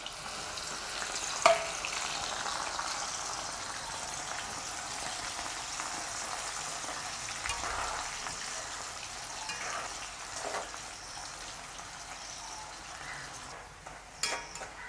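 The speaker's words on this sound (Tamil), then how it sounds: "வாழைக்காய் எங்களுக்கு பொரிஞ்சிட்டு நாங்கள் அதையும் எடுத்துடுவோம்." Plantain frying in hot oil for hotel-style vegetable rice, a steady, bright sizzle with crackling bubbles throughout, occasional small pops and a faint stir near the end.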